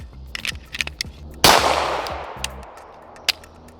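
Shadow Systems CR920XP pistol fired at an outdoor range with 124 grain ammo: one loud, sharp nearby shot rings out with a decaying tail, set among fainter distant reports from other shooters.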